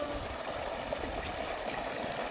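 A main stream of water flows through a channel in village farmland, giving a continuous close, loud rushing and gurgling wash with no pauses.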